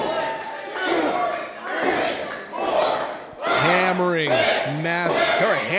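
A wrestling crowd roars and chants in swelling waves, loud and close, with voices rising in pitch toward the end.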